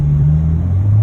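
An Audi car engine gives a brief, loud low rumble as the gas is lightly pressed, a short steady drone that dips slightly in pitch near the end.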